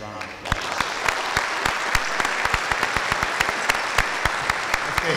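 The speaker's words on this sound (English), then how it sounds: "I'd like to please take a moment and recognize him as a round of applause." Audience at a town meeting breaks into sustained applause, with distinct close claps ringing out rhythmically over a dense bed of hand-clapping throughout.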